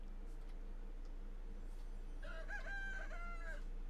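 A rooster crowing at night in Medieval Dynasty, one clear drawn-out cock-a-doodle-doo rising and falling over a low steady hum, fairly close and alone without talk.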